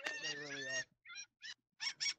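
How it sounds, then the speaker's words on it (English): Seagulls squawk in a few harsh, honking bursts, one long call followed by several short choppy ones, at a fairly low level. "the seagulls are freaking out"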